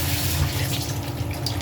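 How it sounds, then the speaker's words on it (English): Tap water pours into a sink while an apple is rinsed beneath it, a short continuous splashing stream with a low drumming tone from the basin. "Give it a quick rinse in the sink."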